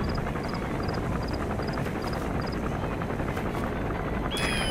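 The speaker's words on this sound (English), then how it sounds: "There's a chopper landing." A helicopter landing in the Metal Gear Solid V: The Phantom Pain video game, a loud steady rotor roar and thumping drone with faint repeated beeps layered on top and a brief sharper sound at the end.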